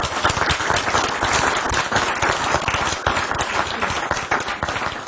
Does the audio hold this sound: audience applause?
yes